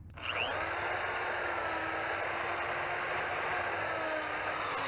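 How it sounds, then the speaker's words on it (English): A power drill runs continuously, boring a pilot hole for a mount into old hardwood salvaged from skids and packing crates. A loud, steady whine with a grinding, woody texture. "I always try to pre-drill."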